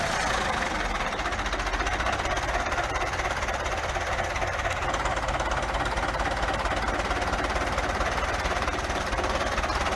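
A Belarus 520 64 hp tractor, still in original condition, runs with a loud, close, rapid diesel clatter that holds steady and unbroken throughout, no talk.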